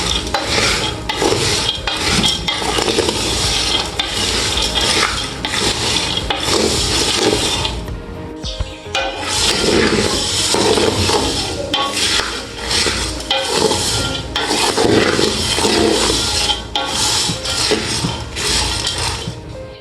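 Salted peanuts roasting in a pan over low heat, stirred continuously: busy scraping and rattling of nuts against the pan, with a brief lull partway through before the stirring resumes.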